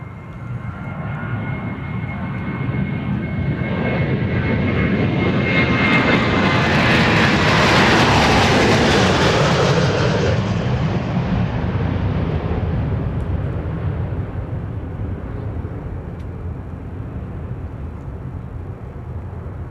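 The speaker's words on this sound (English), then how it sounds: "That was flight 3935 to San Antonio, Texas, 737-700." A Southwest Boeing 737-700 jet on flight 3935 to San Antonio takes off from Dallas Love Field, its loud engine roar swelling to a peak and then slowly fading away.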